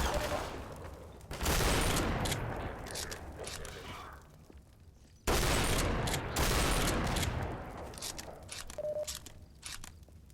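Two heavy sniper rifle shots in the Half-Life 2 game ring out several seconds apart, each a loud crack followed by a long decaying echo.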